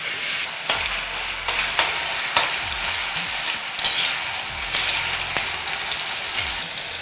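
Diced potatoes fry in a pan with a steady crackling sizzle, close and even, punctuated by regular scraping clicks as they are stirred, with no one speaking.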